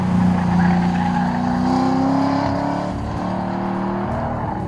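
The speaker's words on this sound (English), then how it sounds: "you want to hear just the right amount of complaining from the tires to let you know you're at the ragged edge of grip" Race car cornering through a turn with its tires squealing at the edge of grip, a steady engine drone with a sustained tonal whine from the tires over several seconds, loud and close.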